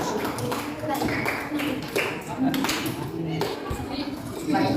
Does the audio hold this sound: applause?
yes